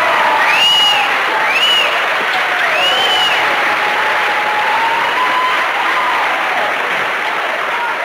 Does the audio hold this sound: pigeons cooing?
no